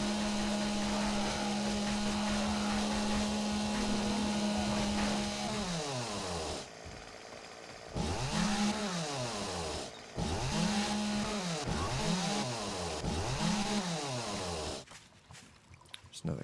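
Chainsaw in the video game 7 Days to Die, first a steady idling drone, then repeated revving bursts rising and falling in pitch as it cuts, loud and close with no talking.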